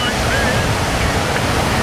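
Ocean waves at Ho'okipa Beach on Maui during a paddleboard sprint race: a steady, loud wash of surf blended with wind rumbling on the microphone, continuous throughout.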